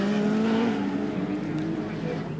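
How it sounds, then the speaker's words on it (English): Touring cars race at Winton Raceway in the 1991 Australian Touring Car Championship, a loud sustained engine drone with a gradually falling pitch, as if a car passes close and pulls away, with commentary running over it. "Tony Longhurst getting closer to the back of Win Percy's car."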